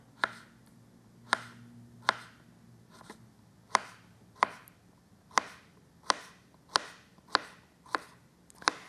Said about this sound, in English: and then I just slice it like this.